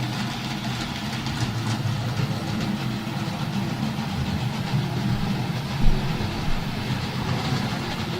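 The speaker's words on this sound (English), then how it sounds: "there's a bit of running of trains." Model trains run on a home layout, giving a steady low rumble and whir of motors and wheels throughout, with one brief louder clunk partway through and no talking.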